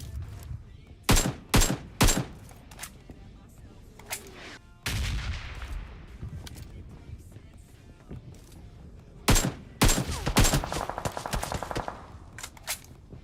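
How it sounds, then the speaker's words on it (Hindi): AKM assault rifle fire in PUBG Mobile, delivered as sharp single shots and short bursts in several separate clusters. The shots are loud and close, over a low game background. "मैं एकेएम की एक एक गोली चलाता हूं"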